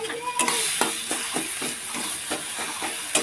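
Mashed banana paste stirred in a wok, a scraping, rhythmic stir repeating about every half second over a steady frying hiss, close and moderately loud with no talking.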